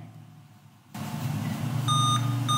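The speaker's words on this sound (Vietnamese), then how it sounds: "nó kêu tút tút này" A plugged-in laptop that will not boot gives a short run of high, evenly spaced electronic beeps over a low hum, after a click as power connects; nobody speaks.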